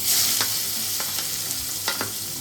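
Chopped onion hits hot oil with whole spices, cloves and dried red chillies for veg biryani, producing a bright, steady sizzle with a few scraping stirs of a spoon in the pan and no voices.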